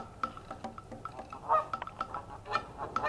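Geese honk repeatedly in a noisy flock at the Tulsa Zoo, calls overlapping at a moderate distance.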